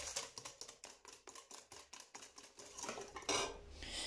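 Chocolate cake batter of sugar and vanilla sugar being mixed in a bowl, heard as a quick, steady run of clinking strokes against the bowl, close and moderately loud, ending with a denser scraping stretch.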